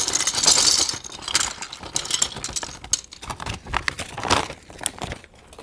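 Plastic keycaps tumbling out of a bag in a quick burst of clattering, crinkling and clicking, with irregular bursts of rattling that taper off.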